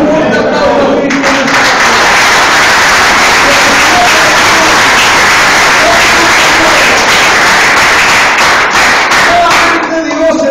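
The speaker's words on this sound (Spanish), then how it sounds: "Ten un fuerte aplauso a Cristo." A church congregation claps loudly and continuously for the full stretch, a dense unbroken wall of applause with crowd noise and no clear break.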